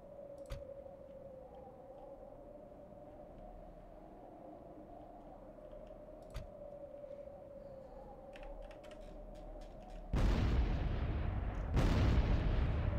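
Dwarf artillery firing in the Call of Warhammer game, with two heavy, loud booming blasts near the end over a quiet background hum and a few soft clicks.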